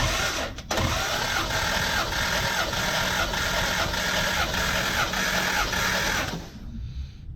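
A 1958 Jaguar XK150 3.4-litre engine cranks steadily on the starter during a compression test, its even rhythmic churning loud and close for about six seconds before cutting off.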